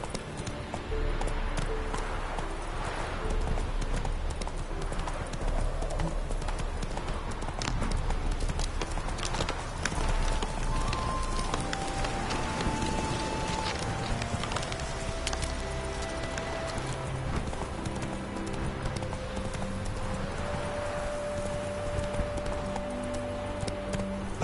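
A horse gallops with steady hoofbeats in The Witcher 3, moderately close, under game music and ambient sound throughout.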